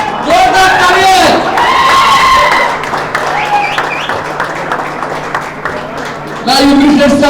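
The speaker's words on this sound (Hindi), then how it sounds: "बहुत बहुत जोरदार तालियां" Applause and cheering rise from a crowd as a second-place prize winner steps onstage at a city championship trophy event, with shouts and whoops over steady clapping and an announcer speaking loudly throughout.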